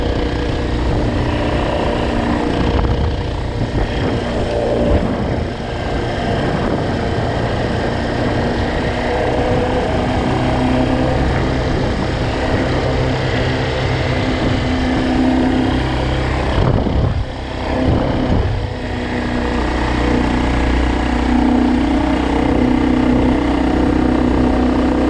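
Kawasaki KLF 300C ATV engine running steadily close by, a continuous loud low rumble with a brief dip partway through, no talking.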